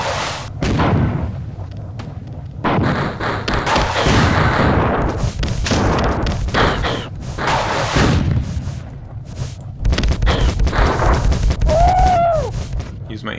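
Alien weapons fire in the Marathon 2 Durandal first-person shooter, with repeated loud bursts and booming blasts through most of the stretch alongside enemy noises and a high whine near the end.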